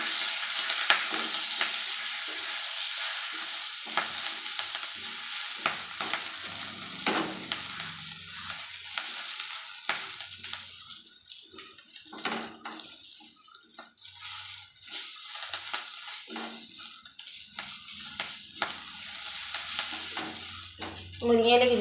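Moringa leaves fry and get stirred in a home kitchen pan, a continuous sizzle broken by scraping strokes of a utensil that come and go, with a little faint talk.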